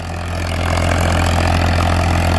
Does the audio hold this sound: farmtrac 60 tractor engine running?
yes